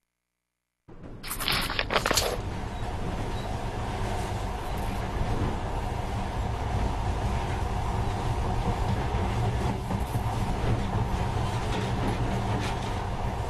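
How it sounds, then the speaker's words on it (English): A monorail train in Metro Last Light runs with a steady, dense rumble and rattle. It starts abruptly after a brief silence with a sharp clatter, then rolls on loud and unbroken. "this monorail seems magic, doesn't it?"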